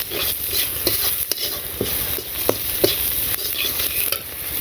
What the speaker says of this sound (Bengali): পেঁয়াজ আর মরিচ একটু লাল লাল করে ভেজে এর মধ্যে লবণ আর হলুদের ফাঁকি দিয়ে দেবো।